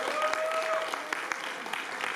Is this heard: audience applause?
yes